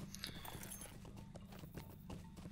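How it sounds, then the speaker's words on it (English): A horse's hooves clop rhythmically as it gallops in the video game Lord of the Rings Online, with quick, repeated beats over a dense, steady game background, faint and continuous. "We will jump up on our horse so we can get some of this done a little bit faster."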